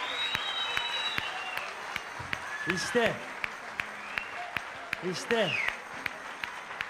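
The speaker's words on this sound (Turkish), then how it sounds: "Alkışlar." A television studio audience on the Turkish show Popstar breaks into sustained applause. The clapping is a dense, even roar, and a couple of short spoken exclamations rise above it.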